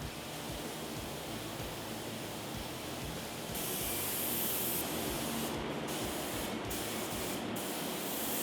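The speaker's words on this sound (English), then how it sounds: "So we just got done epoxying in there" Spray gun applying epoxy primer to a car body, a continuous loud hiss of atomized spray that swells midway, with a few brief interruptions toward the end.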